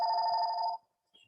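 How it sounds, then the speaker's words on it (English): A telephone rings once, a bright, clear electronic trill that stops abruptly, followed by a brief faint chirp in a quiet room. "telephone's ringing"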